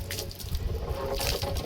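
Water splashes and trickles close by as a bamboo pole is rinsed clean for a Gudi Padwa puja, a brief uneven pouring and splattering with no speech.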